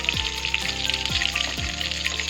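Pointed gourd (potol) pieces frying in a pan of oil, a steady close sizzle with occasional low thumps as the pieces are moved, no voices.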